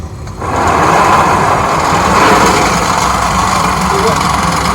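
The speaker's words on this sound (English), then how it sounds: "He's going to accelerate out of this position." A 2020 Hyundai Venue in snow mode accelerates from a standstill on snow, engine noise rising into a loud, steady roar after a brief quiet start, with a voice faintly audible under it.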